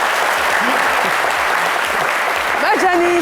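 A crowd applauds steadily and loudly throughout, with a voice briefly speaking over the clapping near the end.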